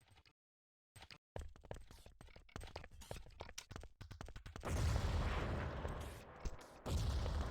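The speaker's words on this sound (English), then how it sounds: "Got some nades coming in now to Globe." Grenades and gunfire in an Urban Terror World Cup match, a fast series of sharp cracks and bursts followed by heavier booming blasts, loud and cluttered with brief gaps of silence.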